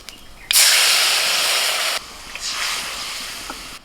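Tamarind water poured into a hot pan of oil tempered with black mustard seeds gives a sudden loud hiss and sizzle that holds steady, cuts off sharply, then returns as a softer, bubbling sizzle.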